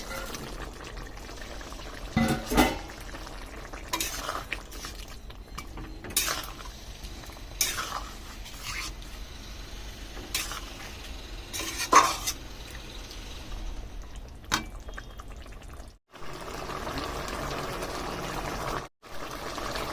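Fish simmering in a boiling curry, a low bubbling bed broken by scattered clinks and scrapes of a utensil against the pot, with a brief steadier gush near the end.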